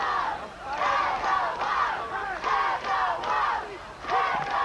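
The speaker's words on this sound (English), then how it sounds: "you'll hear that crowd screaming Agawam" A crowd at a 1992 Agawam Brownies high school football game chants in rising and falling waves, many voices yelling together in a loud, rhythmic roar that swells repeatedly over several seconds.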